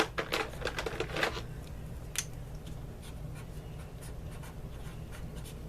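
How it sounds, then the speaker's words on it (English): Handwriting on paper at an office-supply crafting table: quick scratchy pen strokes in a short flurry, then lighter sporadic scribbles over a low background hum, quiet and close. "And let me write this down."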